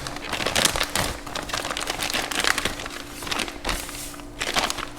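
Crinkling plastic wrap around individually bagged fuel injectors returned from ID1000 injector testing for a Dodge Challenger Hellcat, heard as close, irregular crackling bursts that swell and fade over several seconds.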